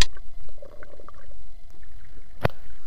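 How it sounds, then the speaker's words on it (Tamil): Splashing and sloshing of someone running through shallow sea water toward a coral reef, with loud irregular splashes up close and a sharp burst near the end. "இப்போ கடலுக்குள்ளே ஓட போகிறோம்."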